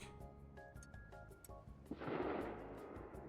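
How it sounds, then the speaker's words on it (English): A gunshot in the video game Schedule I cracks out loud and broad about two seconds in. A noisy rumbling tail follows it, and game music with tones plays before it and carries on underneath. "That was a gunshot."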